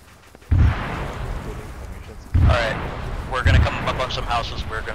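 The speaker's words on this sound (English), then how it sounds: "More gunfire to southwest." Gunfire in a tactical military shooter game: three heavy booming blasts, evenly spaced, loud and fairly close, over a steady rumbling battlefield bed, with a voice talking in between.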